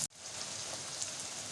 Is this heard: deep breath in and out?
no